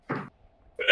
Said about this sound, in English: Sneeze on them.